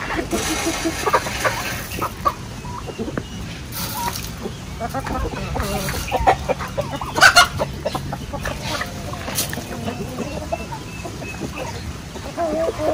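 Chickens and roosters cluck and squawk before being fed. The calls come in scattered, close bursts over rustling and clattering, and people talk softly in the background.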